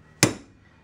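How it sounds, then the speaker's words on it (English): A hammer drives a cold chisel against a kingpin bushing on a Datsun truck, giving one sharp, loud metallic strike with a ringing decay, then a faint second tap close by. "I'm just trying to take a normal cold chisel here and"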